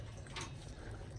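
A faucet keeps running steadily during a domestic water main shutoff valve replacement, with ice still in the line. It makes a brief, faint, even hiss of flowing water.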